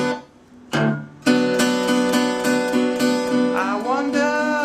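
An acoustic guitar plays a finger-picked Delta blues break: a few plucked notes open it, then a run of ringing picked notes and bass strikes follows with a bend near the end, close and clear with no voices.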